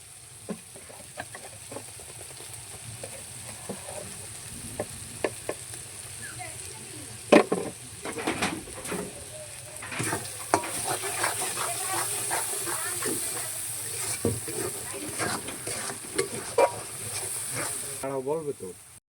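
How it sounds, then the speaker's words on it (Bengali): Spices for a home-style chicken curry stirred and fried in a pan, a constant sizzling hiss with repeated scraping and clinking of the spoon against the pan throughout. "কষানো হয়ে গেছে মশলাটা"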